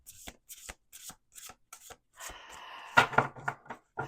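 Tarot cards are shuffled by hand up close, a series of short crisp riffles and taps followed by a longer, louder burst of cards sliding and snapping together.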